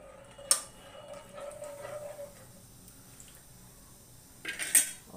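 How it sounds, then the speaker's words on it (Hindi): A spoon clinks against a pot while prawn curry is stirred, with two sharp metallic taps near the start and end and soft scraping in between, fairly quiet. "now we will stir this"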